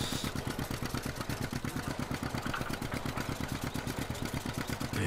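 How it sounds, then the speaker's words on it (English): An engine running on a heritage machine, a steady, fast, rhythmic chugging thump that stays loud and close throughout without any talk. "It's a lovely engine built on this thing."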